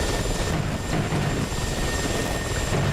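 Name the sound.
Mi-24 helicopter in a video game (DCS PvP event)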